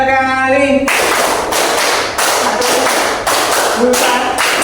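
A class of students claps hands together in rhythm, loud and close, with dense bursts of clapping separated by brief pauses after a short moment of voice at the start.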